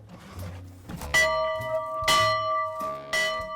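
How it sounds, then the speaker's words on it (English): A resonant bell at a summer house is struck three times at a slow, even pace, each loud clang ringing out with a long humming decay. "We have a nice bell. Would you like to hear the bell?"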